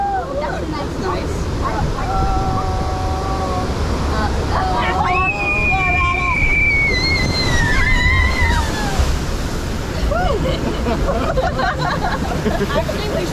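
Water rushing and splashing around a raft on the Grizzly River Run rapids ride at Disney's California Adventure, a steady loud wash of surf-like noise with riders' voices and shouts mixed in throughout.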